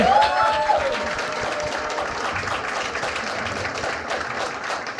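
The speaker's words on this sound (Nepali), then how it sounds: "ए है जोरदार ताली" An audience claps loudly for a performer, opening strong and settling into dense, even applause that carries on for the whole stretch.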